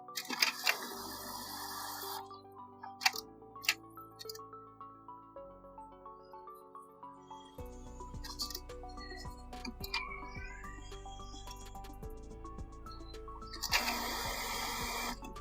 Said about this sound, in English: The printer is unable to take paper from tray.